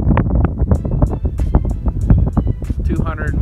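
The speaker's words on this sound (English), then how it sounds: "It's a little windy." Gusty wind buffets the microphone outdoors at an open desert campsite, loud continuous rumble and flutter throughout, with someone talking over it.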